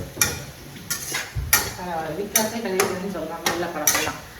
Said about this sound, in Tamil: நம்ம தக்காளி வந்து நல்லா வதக்கி விட்டுருவாங்க தக்காளி நல்லா வதங்கட்டும்